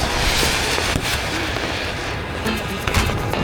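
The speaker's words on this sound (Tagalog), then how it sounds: "Natakot sa fireworks!" New Year fireworks explode in a dense, continuous barrage of crackles and bangs, loud and close, filling every moment without any break.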